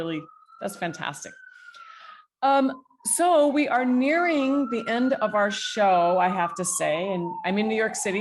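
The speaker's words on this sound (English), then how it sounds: "so you can hear the sirens outside because the window's open" Police sirens wail outside an open window in New York City, a faint, slowly gliding tone running beneath a person speaking close by.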